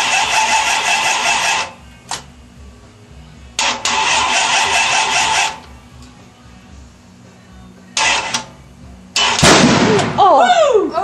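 A Dodge Dart's engine cranks over in several long starter bursts with pauses between them, then catches with a sharp bang and revs up loudly. Voices are faintly heard in the background.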